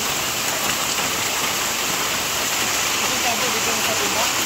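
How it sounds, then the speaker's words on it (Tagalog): A constant roar of heavy rainfall, loud and close, pounding down without letup. "Grabe naman po ang lakas ng ulan."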